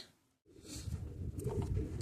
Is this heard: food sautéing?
no